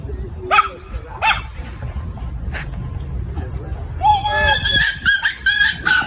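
A pack of dogs barks and yips at a lone Komodo dragon they have surrounded, sharp repeated barks near and loud, busier toward the end, with a voice talking over them.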